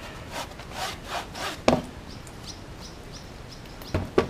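A tool scrapes beeswax from a wooden beehive frame in several rough rasping strokes, close up, with a sharp knock partway through and birds chirping faintly in the background.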